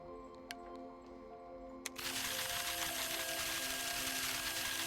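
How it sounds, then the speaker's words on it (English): A mixer in a virtual reality factory simulation switches on partway through, its steady whirring hum taking over after a couple of faint clicks and holding at an even, moderate level to the end. "Close the mixer and turn it on."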